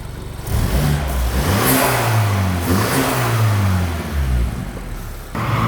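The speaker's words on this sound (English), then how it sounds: "Should we fire it up and listen to some turbo sounds?" A 2012–2018 BMW F30 328i with the turbocharged N20 four-cylinder and an Eventuri carbon intake revs hard in several loud, rising pulls, heard close up from the front grille with no talking.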